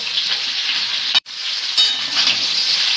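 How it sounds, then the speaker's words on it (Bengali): Eggplant and mixed vegetables for shukto fry loudly in a pan, a dense steady sizzle with stirring and one brief pause. "এবার এটাকে একটুখানি কষিয়ে নেব।"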